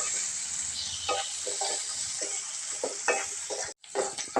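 Tomato and onion fry in a pan, a steady bright sizzle carrying repeated scraping stirs of a spatula, with a brief dropout just before the end.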